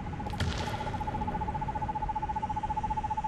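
A bird call in the horror game Perception, an owl-like hoot that repeats as a steady warbling tone against a low rumbling background, with a brief thump near the start.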